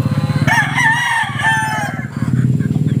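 Chickens cluck and a rooster crows loudly up close, with steady pulsing farmyard noise beneath the calls.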